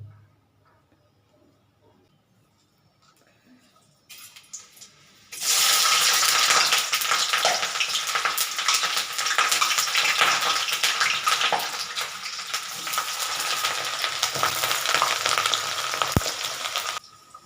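Potato and onion dropped into hot oil: near silence, then a burst at about four seconds swelling into a loud, steady, crackling fry that holds for the rest of the clip.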